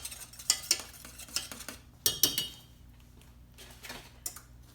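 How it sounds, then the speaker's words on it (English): A metal whisk stirs a creamy plantain au gratin sauce in a pot, giving irregular bursts of quick scraping and ticking clinks against the pan, close and fairly soft. "this is why I switched to my whisk"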